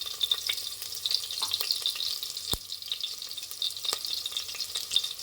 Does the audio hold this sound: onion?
yes